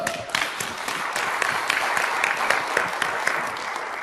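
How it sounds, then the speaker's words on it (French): Sustained applause from an audience at a leadership talk, a dense steady wash of many hands clapping close by for the full stretch, with faint voices mixed in. "Applaudissez-le!"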